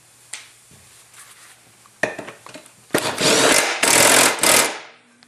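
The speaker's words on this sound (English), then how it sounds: "Tighten up our bolt." Tightening a blade bolt on a riding mower deck with a power tool: a few short clicks and knocks, then a loud, sustained whirring rattle of about two seconds near the end, close by with no talk.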